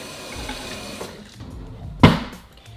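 A knife rinsed under a running tap after sharpening, with a low close rush of water and one louder splash as the blade passes through the stream.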